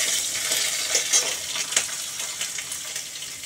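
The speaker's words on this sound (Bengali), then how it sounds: "দুটো তিনটে কাঁচা লঙ্কা ফোড়ন দিয়ে দিলাম।" Nigella seeds and green chillies tempering in hot oil, a bright continuous crackling sizzle close up with small pops and a spoon or two scraping the pan.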